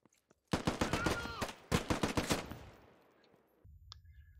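Gunfire in the military shooter Squad comes as two loud, rapid bursts of close-range shots, each ending in a long, fading echo, with a faint hum afterward.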